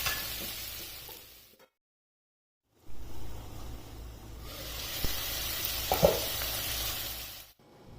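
Chicken and vegetable spring roll stuffing fries in a pan over a medium flame, a steady close sizzle and hiss that drops out briefly, returns, and carries faint stirring clinks.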